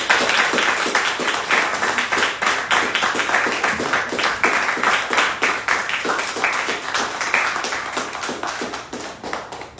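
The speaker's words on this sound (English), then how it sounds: "Can we give our artists a round of applause," An audience at an art exhibition talk claps for the artists, a sustained crowd of individual hand claps, close and lively, tapering slightly near the end.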